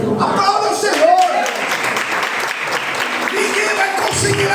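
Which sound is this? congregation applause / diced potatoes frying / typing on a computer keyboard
congregation applause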